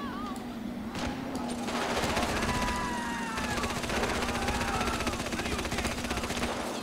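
Rapid automatic gunfire from the GTA 5 video game, dense continuous bursts throughout with game effects layered in, steady and loud.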